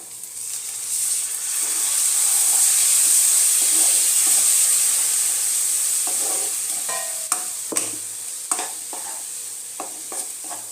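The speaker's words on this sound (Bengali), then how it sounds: "মশলাগুলোকে দিয়ে আবার ভালো করে কষিয়ে নেব" Spices being sautéed and stirred in a pan with a steady frying hiss throughout, sharp scraping clicks of the spoon in the later half, close and fairly loud.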